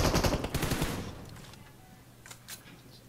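A rapid burst of automatic gunfire in the PUBG Mobile shooter game rattles loudly for about a second, then fades to quieter background game noise with one faint later shot.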